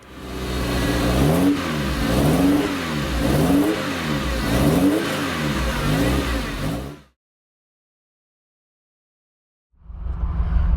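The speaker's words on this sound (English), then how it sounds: "we can just have a hear of the new exhaust for the first time" A cheap Ferrari 308 fitted with a new sports exhaust revs loudly up and down about five times in a rhythmic, rasping pattern, falls to a cutoff, then a fresh burst of engine noise starts.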